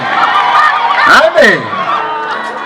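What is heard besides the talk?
church crowd clapping and cheering for Jesus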